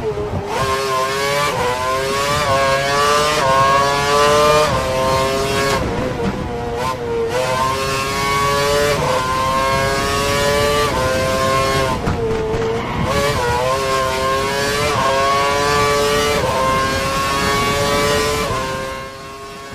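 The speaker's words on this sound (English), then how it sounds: "So I'm going to shut up now, let you listen to a bit of the car noise." A Formula 1 car engine in the video game F1 2012 screams loudly and continuously, pitch climbing through gear shifts and dropping on braking, with occasional tire squeal.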